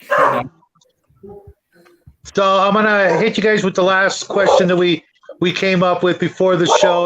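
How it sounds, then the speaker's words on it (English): A pet alarm dog barks in short bursts at a house, its barking mixed in with someone talking throughout during an interview-style conversation. "That's my alarm dog."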